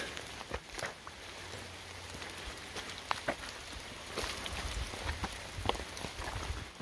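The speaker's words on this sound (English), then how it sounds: "we're moving forward in the rain" Steady rain falls on the Appalachian Trail, a dense continuous patter with scattered louder drops, close and even throughout with no talk.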